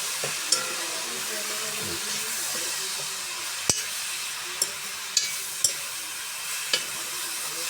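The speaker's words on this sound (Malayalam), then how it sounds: "ആ വെള്ളം നമുക്ക് ഇതിനകത്തോട്ട് ഒഴിക്കാം." Water poured into a hot pan of jackfruit stir-fry, raising a continuous hissing sizzle with several sharp metallic clinks of a utensil against the pan, close and moderately loud with no talking.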